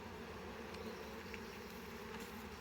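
A faint, steady buzzing of many honey bees at a hive drones on without pause, low and constant like a hive humming nearby.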